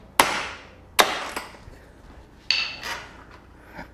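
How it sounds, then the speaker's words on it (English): A small ball peen hammer strikes a bolt on a Yamaha Tenere 700 to break the nut loose: five or six sharp metallic taps in irregular succession, close and clear with no voices. "Then you can take a hammer. I have a small ball peen hammer."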